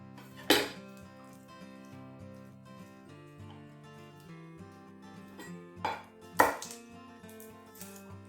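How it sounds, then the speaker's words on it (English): Two garlic cloves chopped on a board for gazpacho soup, a few distinct sharp knife strikes spaced out over quiet background music. "so just chop these up"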